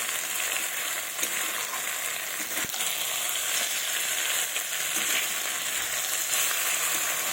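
Goat mutton fries with stone-ground spice paste in a pan, a constant close sizzle with occasional stirring scrapes and no voices.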